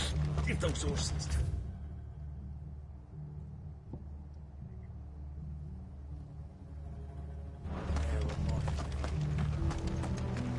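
Horses gallop in Final Fantasy XVI with bursts of quick, loud hoofbeats at the start and again near the end, separated by a quieter rumbling stretch.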